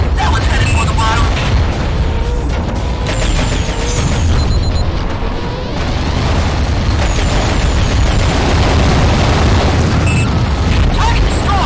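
Underwater target blowing apart in AquaNox, a deep, sustained booming rumble that fills the whole stretch with layered blasts and debris noise at constant high loudness.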